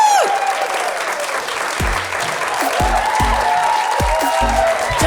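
Audience applause and cheering at a stand-up comedy show, a loud sustained wash of clapping with a few low thumps underneath and faint voices in the crowd.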